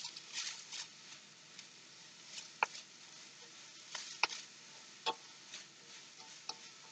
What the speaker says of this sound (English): And we're going to throw in the green onions. Stir them all together.